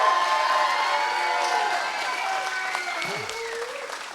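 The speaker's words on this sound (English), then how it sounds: "Let's give one more big round of applause." A crowd applauds and cheers after a ten-round slap fight match at a Friday night fight event, clapping fading slightly while tonal music or sound effects play over it and a voice breaks through briefly.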